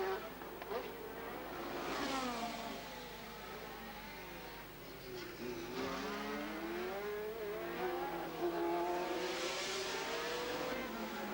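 Formula 3000 race cars at the 1987 Pau race, their high-revving engines rising and falling in pitch as they accelerate and pass, several cars overlapping at a moderate distance.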